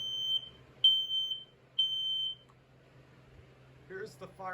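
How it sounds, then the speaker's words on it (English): A Kidde AC hardwired smoke alarm sounds three piercing, steady high-pitched beeps in an even pattern, fairly close, with a low electrical hum underneath and a voice starting to speak near the end. "Kidda AC hardwired alarm"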